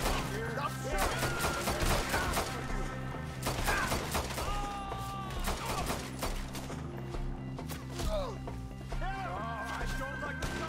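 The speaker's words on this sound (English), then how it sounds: "Stop shooting!" Rapid bursts of gunfire crackle through a tense chase as voices shout over it, sharp repeated shots layered with clattering mechanical noise and music-like tones, fairly dense throughout.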